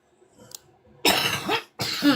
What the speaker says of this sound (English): since I'm wanting to cough now